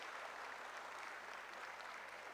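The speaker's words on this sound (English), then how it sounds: "So you guys can clap for yourself and all the researchers." Audience at a national conference hall at Kadi Sarva Vishwavidyalaya applauds in a continuous, even wash of many hands clapping, heard faintly from a distance.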